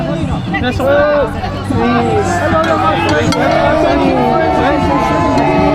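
Dense crowd hubbub at a street protest, loud and continuous from start to finish, with many voices talking and shouting over one another close around.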